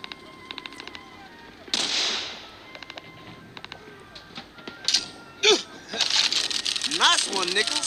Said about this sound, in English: Let's see you use a smoke grenade.